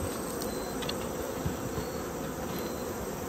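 A dense, steady buzzing of many agitated honey bees during a queen replacement, continuous and close, with no talking.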